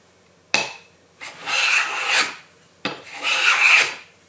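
A Bridge City hand plane shaves wood in two long rasping strokes, each starting with a sharp bite of the blade and followed by a steady hiss of curling shavings, close and fairly loud with no voices.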